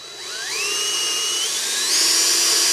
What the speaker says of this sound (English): So now I'm gonna put a center punch there and then I'll drill it.